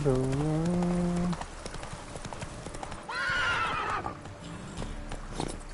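Roach the horse in The Witcher 3 gives a loud whinny, then hooves clip-clop steadily at a gallop, with a second neigh partway through and a voice speaking over it.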